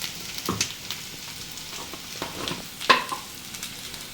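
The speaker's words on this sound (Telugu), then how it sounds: "అల్లం వెల్లుల్లి పేస్ట్ అయితే వేగిపోయింది కదా." Ginger garlic paste sizzles and fries in a pan, with a steady crackle broken by several sharp stirring scrapes, close and moderately loud, with no talking.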